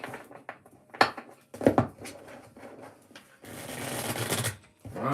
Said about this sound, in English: I'm going to do 2 shuffles.